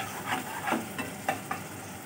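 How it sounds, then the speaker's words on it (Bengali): Spice paste for masala bitter gourd (korola) fries on high heat under a steady sizzle, with a spoon pushing through it in about five scraping strokes spaced under half a second apart. "আমি এটা হাই হিটে কষাচ্ছি মশলাটাকে"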